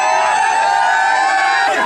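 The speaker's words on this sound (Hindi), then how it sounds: "सड़क पर प्रदर्शनकारी किसान जमा हैं। गहमा गहमी खूब है" Dense murmuring crowd of protesting farmers gathered on a road, a continuous loud mass of overlapping voices and shouts with no pauses, steady throughout.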